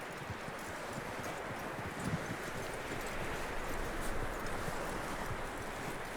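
Horse hooves clip-clopping steadily in Red Dead Redemption 2, a continuous close trot over a rustling, breezy outdoor ambience, with no talking.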